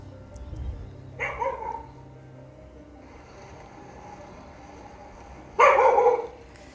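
Two short bursts of barking from a dog a little way off, at a rural house with a wide yard in Jinju, South Korea, over a steady outdoor background hum.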